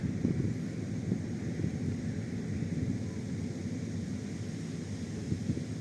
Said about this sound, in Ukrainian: Який вітер.